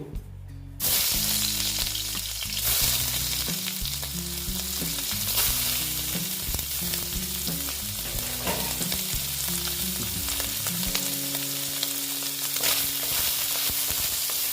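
Soya chunks fry in oil with a loud, continuous sizzle that starts abruptly and runs throughout, while steady low tonal music plays underneath.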